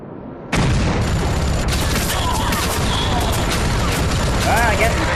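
Airstrike explosions in the video game Rogue Trooper Redux hit in a sudden loud blast and then roll on as a continuous barrage of booms and crashes, with a voice calling out under the chaos.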